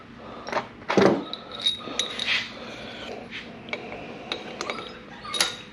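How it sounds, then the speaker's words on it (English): Metal engine bolts clink and slide into place on a Chevrolet 5.7 Vortec V8 during a rebuild, with scattered light metallic taps and jangles, one sharper clatter near the start, close and fairly quiet with no talking. "Get all these bolts slid down in."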